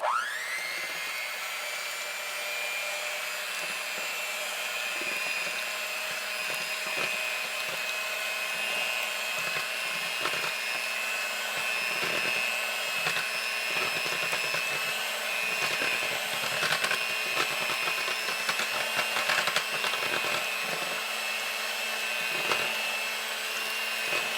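Pillsbury cake mix batter is mixed with a steady, whining motor whir that runs continuously for about twenty-four seconds. Faint irregular clicks and scrapes sit under the drone, and no one speaks.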